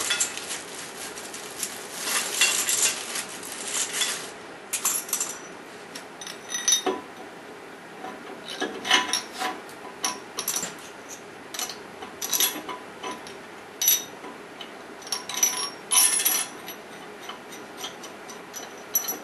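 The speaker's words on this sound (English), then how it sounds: "So I've got a nut and a washer, top and bottom here." Small metal nuts and washers are handled for a wire wheel table build, clinking and tapping in irregular light bursts, fairly close, with quiet pauses between the clicks and no talking.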